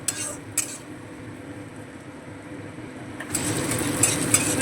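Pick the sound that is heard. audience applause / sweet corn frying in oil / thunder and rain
sweet corn frying in oil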